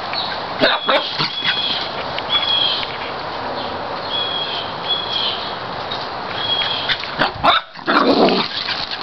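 A dog runs around outdoors and barks, with sharp barks near the start and end, a loud panting-like burst near the close, and chirping birds and breezy rustle in between.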